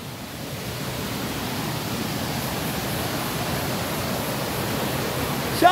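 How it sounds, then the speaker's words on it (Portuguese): Broad, steady rushing of large waterfalls along a rocky creek near Barra do Garças, Mato Grosso, heard close and continuous without any talk, holding an even roar throughout. "Tem umas cachoeiras grandes ali para baixo, ali, ó."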